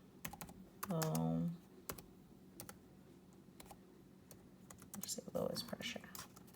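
Faint, quick clicks of a computer keyboard being typed on with one hand, scattered in short bursts, with a person talking over and between them.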